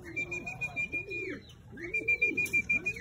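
A racing pigeon comes home to its loft: soft, repeated throaty coos close by, with a steady high electronic tone sounding twice in the background.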